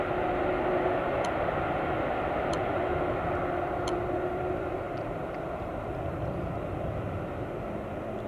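A KLM jet airliner in from Lagos at Amsterdam's airport, heard as a steady broadband roar of jet engine noise holding throughout at an even level, with faint periodic ticks above it.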